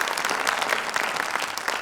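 A burst of lively applause from a group, many hands clapping continuously and fairly close.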